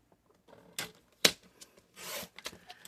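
A paper trimmer slices through a scored sheet, cutting it in half: sharp, dry clicks and a short swishing stroke of the blade, close by and fairly quiet, with soft handling noises between them.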